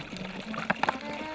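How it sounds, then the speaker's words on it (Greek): Water poured over a beekeeping queen cage set in a basin, its front divider removed: a low, steady wash of running water with a few brief splashy bursts near the middle. "τη βάζουμε σε μία λεκάνη και ρίχνουμε νερό"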